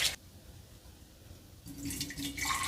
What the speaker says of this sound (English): Since I'm pouring hot water into glass